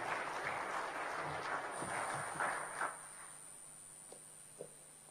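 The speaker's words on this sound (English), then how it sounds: "Please give another round of applause." Applause from the audience at a high-level Commonwealth event on violence against women and girls, a steady moderate patter that thins and fades out midway, leaving a quiet room with a few faint knocks.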